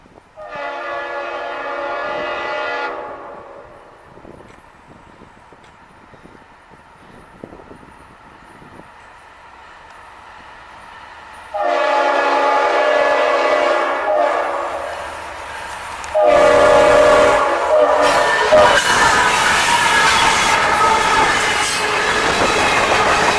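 A very long local freight train passes just north of Moncrief, with horn blasts, rumbling railcars, clickety-clack wheels and squealing, growing louder and closer toward the end.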